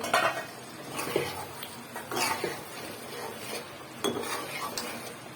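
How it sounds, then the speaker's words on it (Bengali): Meat curry is stirred in a pot, with soft scraping strokes and light metallic clinks of a spoon against the pot repeating at an irregular rhythm, close and fairly quiet. "মাংসটা আরেকবার নাড়িয়ে দেবো।"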